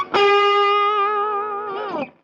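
Electric guitar played through a distortion pedalboard into a Lone Star amp, ringing out as one sustained, harmonically rich distorted note held for about two seconds before it is cut off.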